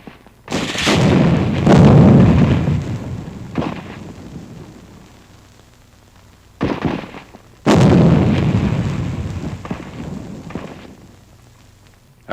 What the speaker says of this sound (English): Point-blank rifle fire wipes out remaining enemy pockets.